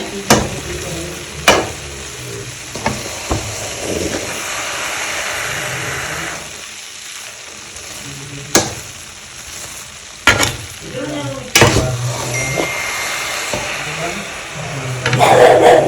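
Carrot halwa mixture being stirred in a pan for barfi, a steady frying sizzle with intermittent scraping and clanks of the spoon against the pan, close and continuous with a brief lull midway.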